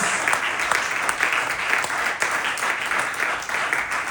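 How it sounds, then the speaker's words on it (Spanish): A church congregation applauds loudly and steadily during a Lord's Supper service, a dense wash of many hands clapping at once that holds an even intensity throughout. "Alguien le da un aplauso grande y fuerte al Señor Jesús."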